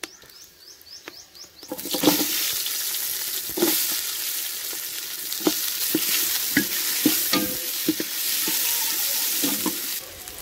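Steady hot-oil sizzling and crackling as whole spices and bay leaf fry in about six tablespoons of oil, close and continuous, with occasional sharper pops and a few clinks as spices hit the pan.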